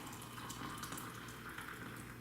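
Hot water streams into a glass mason jar French press in a continuous, quiet gurgling pour, close and unbroken, with no voices.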